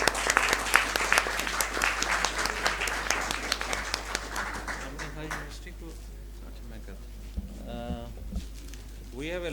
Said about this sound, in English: Everyone, a round of applause for each other.